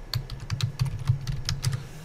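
Quick bursts of keystrokes on a computer keyboard as a password is entered at a Windows login screen, close and clear, steady clicking with no talking.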